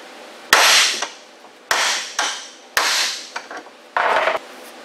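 A hammer strikes a universal joint to drive it out of a vehicle driveshaft yoke, four sharp metallic blows spaced about a second apart, each ringing briefly, with a fainter tap between, loud and close.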